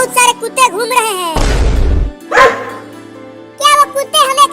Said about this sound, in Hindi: कुत्ते घूम रहे हैं।